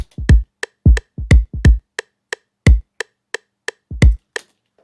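A boom bap drum beat programmed in FL Studio: heavy, booming kicks and sharp snare and hat hits land in a steady, punchy loop, loud and close with no voices.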